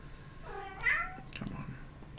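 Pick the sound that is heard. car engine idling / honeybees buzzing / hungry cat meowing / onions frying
hungry cat meowing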